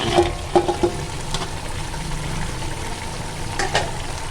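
Mutton roasts in a pot of oil for street-style pulao, a loud continuous bubbling sizzle with a few sharp clanks of a spoon against the pot near the start and again near the end.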